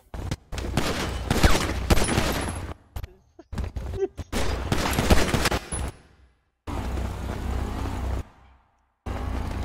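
Gunshots in a Grand Theft Auto roleplay street scene: dense, loud volleys of rapid fire in several bursts with short silent gaps between, a vehicle-like rumble beneath, and no clear voices.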